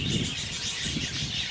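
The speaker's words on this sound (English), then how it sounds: "This is the birds I was telling you about." A dense chorus of birds chirping and twittering continuously, high and bright, over a faint low background rumble.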